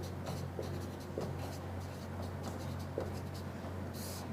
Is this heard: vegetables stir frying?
no